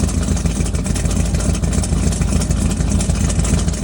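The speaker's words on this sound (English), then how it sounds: "And old model 307 V8. A lot of people don't know what a 307 is, and it sounds all right" An old 307 V8 engine runs at a steady idle on a rat-rod school bus conversion, a continuous low rumble held close and loud throughout.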